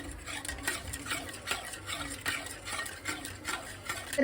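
Cooked spinach gravy for palak paneer is stirred and mixed in a pot with a steady, even rhythm of soft, wet scraping strokes, close and low in level, with no talk.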